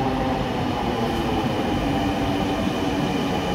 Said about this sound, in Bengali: আমার একটু ট্রেন চলে আসছে।